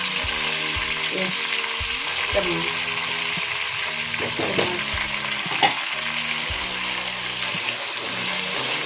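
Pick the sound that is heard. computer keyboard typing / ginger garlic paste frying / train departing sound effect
ginger garlic paste frying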